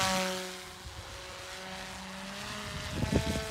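An RC helicopter flying into the wind with its tail held at the left idle stop, its rotor and motor giving a steady moderate whine from a distance, with a burst of gusty buffeting near the end.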